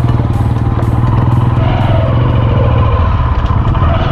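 A motorcycle climbs a steep hill road in first gear in Meghalaya, its engine loud, close and straining with a continuous low throbbing roar and some rattling clatter throughout.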